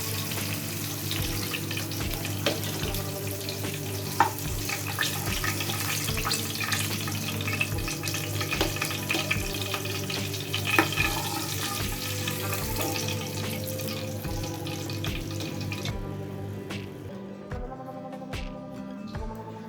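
Katla fish frying in a pan produces a dense, continuous sizzle and crackle close by, with occasional sharp pops and scraping, thinning out near the end as the sound drops away.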